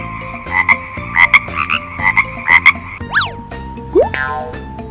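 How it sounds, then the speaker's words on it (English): A cartoonish frog croaks in a children's alphabet phonics song, with several ribbity croaks over a light musical backing, ending in rising and falling sliding tones. "Frog."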